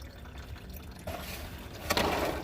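Engine oil draining from a vehicle into a drain pan, a soft continuous trickle and splash close by that grows fuller and louder partway through.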